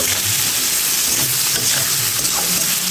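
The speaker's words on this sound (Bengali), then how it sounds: "আলুতে একটু হলুদ আর একটু লবণ দিয়ে ভেজে নিচ্ছি।" Potatoes seasoned with turmeric and salt fry in fish-frying oil, giving a steady, close broadband sizzle with light stirring throughout.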